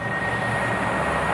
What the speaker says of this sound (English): There's the drone.